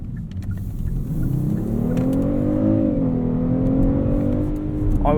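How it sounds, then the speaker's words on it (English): A 2019 Kia K900 Luxury VIP Package with all-wheel drive accelerates on the road, its engine note rising in pitch, easing slightly and climbing again as a smooth, steady hum heard from inside the cabin. "as you can hear back there, engine's pretty responsive"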